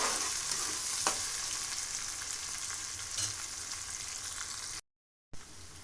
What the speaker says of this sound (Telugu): ఉల్లిపాయ చక్కగా మగ్గిపోయింది.